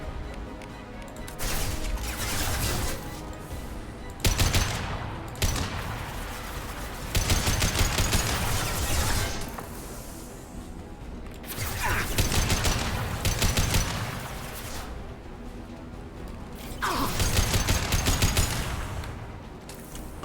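Rifle gunfire in the video game Mass Effect 2 rattles out in several loud, rapid bursts separated by short pauses, close and aggressive throughout.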